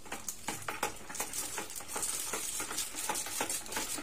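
Homemade dishwashing liquid with green calamansi is stirred by hand, giving a close series of soft irregular swishing and sloshing strokes with faint scraping, no voices.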